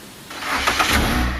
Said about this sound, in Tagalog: Ngayon pa namatay ang makina.